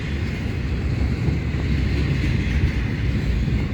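A southbound Norfolk Southern intermodal freight train rumbles past close by, a continuous heavy low roar with wind buffeting, no voices.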